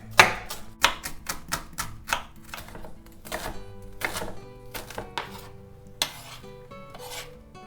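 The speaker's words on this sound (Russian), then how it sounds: "Одну луковицу я нарезаю мелко." An onion being finely chopped with a knife on a board for soup: a quick, uneven run of a dozen or so crisp, close strikes, with a faint steady tone beneath.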